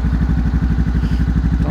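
A 2021 Honda CB500X ABS motorcycle idles close by, with a loud, steady, rhythmic low thump and some mechanical clatter and no talk.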